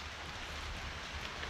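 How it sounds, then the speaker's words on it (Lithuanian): Steady rain hisses faintly as a soft, even wash of noise, with no voices. "Lietus lyja, lietus lyja."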